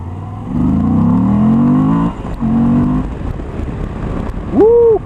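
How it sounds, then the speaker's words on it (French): A Moto Guzzi V85 TT motorcycle engine revs and rumbles through its airbox while riding, rising in two long pulls of deep growl with a short dip between, close and loud, then a brief higher tone at the end. "le bruit de la boîte à air, il est pas mal. Un grondement."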